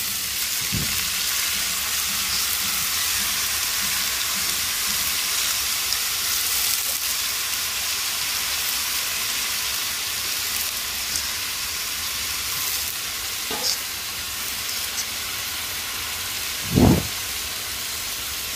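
Cut potatoes and tomatoes fry in a pan, a loud, even sizzle that runs throughout, with a few isolated knocks and thumps of utensils against the pan.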